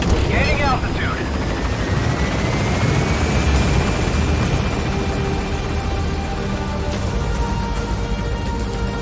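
Helicopter in Metal Gear Solid V: The Phantom Pain climbing to gain altitude, its rotor roar loud, close and unbroken for the whole stretch, with other game sounds layered on top.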